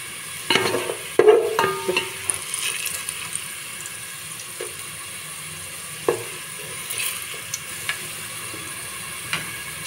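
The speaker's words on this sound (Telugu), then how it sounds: "ఇది గోల్డెన్ బ్రౌన్ కలర్ వచ్చేంత వరకు వేయించుకొని" Food fries in oil until golden brown with a low constant sizzle, punctuated by clattering stirs and scrapes of a utensil against the pan, close and moderately loud.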